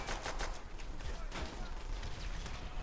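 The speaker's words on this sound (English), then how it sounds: "What's that crazy noise? Oh, the mortar fire." Mortar fire in Call of Duty: World at War, a dense run of sharp, faint explosive bursts and rapid gunfire cracks in quick succession, distant and low in level.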